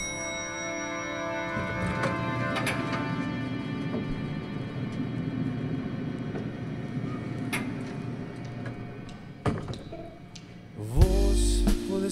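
A song plays steadily with full instrumentation at an even level, then grows louder and denser near the end.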